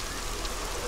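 Rain falls in the zombie survival game How to Survive, a soft, even, continuous wash of patter heard alone.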